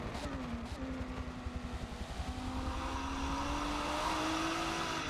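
A race car engine drones on the final lap of a racing video game, fifth place, holding a steady rising whine with a continuous loud roar throughout.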